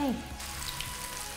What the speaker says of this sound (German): Zack, Achtung, jetzt geht's brutzeln los.